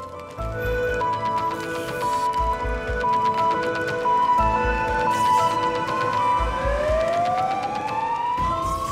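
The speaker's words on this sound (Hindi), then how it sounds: "आवाज आई, फायर ब्रिगेड" A fire engine's wailing siren rises and falls continuously, fairly loud and close, over a rumbling background with a pulsing low thump.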